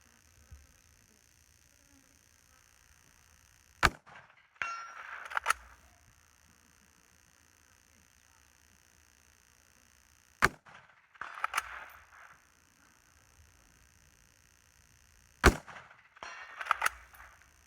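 Three sharp rifle shots from an Oceania Precision SP-25 fired off a bag rest outdoors, spaced several seconds apart, each a loud crack followed by a short fading echo and faint rustle, with quiet ambience between.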